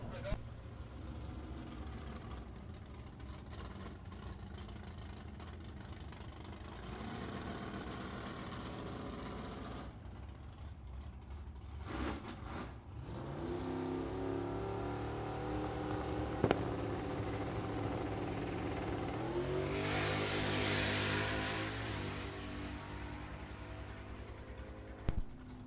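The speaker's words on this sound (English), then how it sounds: "This is one cool turbocharged Chevy Love of Carter Pelletier." A turbocharged 1974 Chevy Love pickup drag racing at a drag strip roars loudly, revving and rising in pitch as it launches and pulls away, with a track announcer talking over it.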